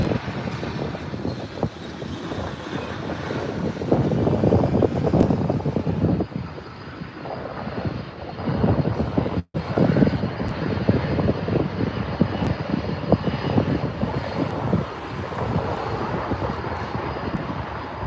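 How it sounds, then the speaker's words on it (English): A Lufthansa Airbus A380 lands at LAX runway 24R with a loud, sustained jet roar that swells and holds for the whole pass. "we have Lufthansa 453 Super A380 coming in to land"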